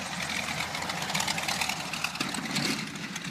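A small plane lands at Crow Island, its engine running at a steady, moderate drone heard from some distance, with mild fluctuations and no voices.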